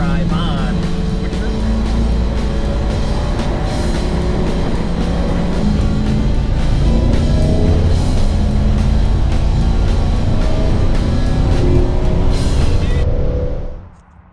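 A 1971 Ford Torino with a 351 Cleveland V8 and Gear Vendors overdrive cruises in second gear with the overdrive engaged, a steady loud engine drone and road noise throughout before cutting off abruptly at the end.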